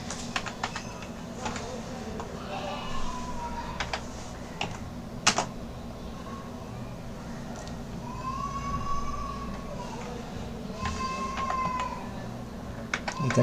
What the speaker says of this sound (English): Here you can type the address.